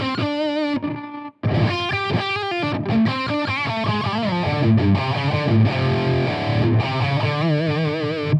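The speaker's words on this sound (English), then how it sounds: "If I just put the distortion on," An electric guitar runs through a Boss GP-10 processor with heavy distortion, played alone in a loud riff of chugging chords and sustained notes, close and continuous after a brief gap.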